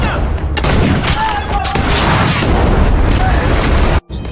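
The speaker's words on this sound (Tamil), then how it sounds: "அந்த இடத்துல தொடங்கு துப்பாக்கி சூடு." Gunfire erupts in an action movie scene: loud, dense bursts and booming shots pile up over a rumbling background, cut off abruptly near the end before a brief return.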